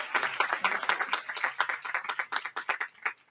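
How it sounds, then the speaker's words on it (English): Scattered hand clapping from a modest crowd at a university commencement ceremony, uneven and moderately loud, fading slightly toward the end. "Now let's recognize and applaud these MBA graduates."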